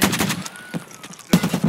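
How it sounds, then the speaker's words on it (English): Gunfire in the game Escape from Tarkov, a quick burst of several sharp shots, a lone shot after a pause, then another rapid cluster, sounding fairly close. "Shots down by the road, I think."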